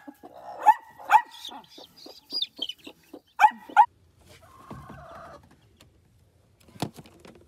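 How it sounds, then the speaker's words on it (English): Chickens cluck and a bird calls in short bursts, a few loud close calls early followed by softer chattering and one sharp note near the end, with no talking. "we've moved all the eggs out from Phoebe and snuck in the chicks"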